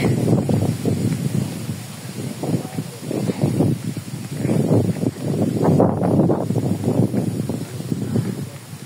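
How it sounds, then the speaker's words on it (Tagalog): Strong wind roars and rustles continuously, gusting in waves, with a voice speaking over it at times. "Narinig niyo ang lakas ng hangin."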